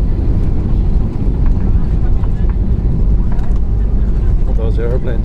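Novair passenger airplane touching down on landing at Billund airport, heard from inside the cabin as a loud, steady low rumble and roar of wheels and engines, with faint voices in the background.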